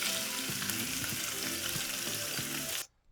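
Bell pepper and Anaheim pepper sizzle steadily in hot oil, a dense close crackle with light stirring clatter, stopping abruptly near the end.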